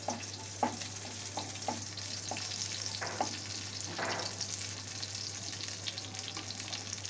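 Nigella seeds and green chillies frying in a pan, a steady close sizzle with repeated scraping strokes of a spatula stirring through it, plus a low constant hum.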